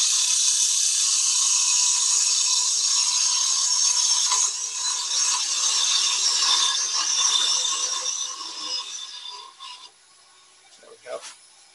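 A wooden gnome spins on a wood lathe while a turning tool cuts it, giving a steady bright hissing scrape that softens and stops near the end, close and without talk.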